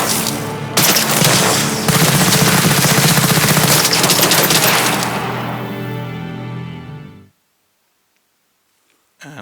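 Gunfire in a combat scene from a Snowdrop engine game demo: a dense, loud wall of automatic shots and booms that fades out, followed by near silence.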